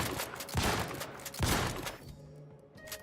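A wrench gun fires in The Outer Worlds 2, giving two heavy blasts about a second apart. Each has a long ringing decay, heard fairly faintly with low background hum and no talk.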